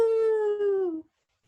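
A person imitates a dingo howl with one loud, sustained vocal note that holds and then dips in pitch before cutting off after about a second.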